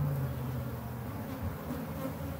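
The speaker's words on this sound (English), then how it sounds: "There's a bee somewhere that's found itself in close quarters that it doesn't like." A honey bee buzzes in close quarters inside a hive during a hive split, a steady, close, droning hum that carries on without a break, with no voices over it.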